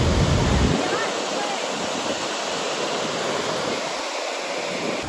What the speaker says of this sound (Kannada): ಇದೆ ನೋಡ್ರಿ ವರ್ಲ್ಡ್ ಫೇಮಸ್ ಜೋಗ ಜಲಪಾತ ಅನ್ಸುತ್ತೆ ರೀ.